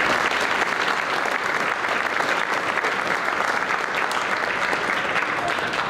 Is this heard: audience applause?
yes